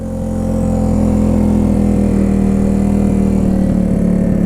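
A classic barn-find Honda CB125S motorcycle idles too high with a sticking throttle, a loud, steady buzzing drone that holds constant close by.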